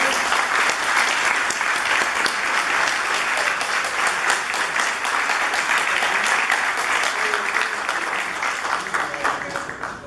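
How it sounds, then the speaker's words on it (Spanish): Sustained applause from a sizable crowd honoring a graduating class at a school gathering, steady and loud throughout, tapering slightly at the very end. "Un aplauso para esa promoción."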